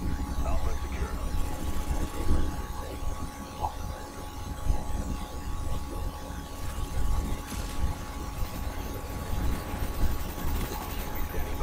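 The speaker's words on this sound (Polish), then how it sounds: "helikopter" A helicopter in the video game Call of Duty Black Ops gives a continuous low rotor drone and mechanical whir, steady and fairly loud throughout, mixed with other in-game noise.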